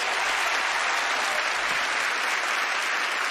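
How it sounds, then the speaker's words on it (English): Steady, dense applause from a studio audience greets Penn and Teller as they join a magician onstage, a loud even wash of clapping that holds for about three seconds with no voices over it. "Give them a big round of applause"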